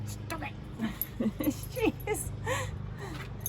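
A dog whimpers and whines indoors, with a run of short, rising and falling high-pitched cries close by at moderate volume against a steady low background hum.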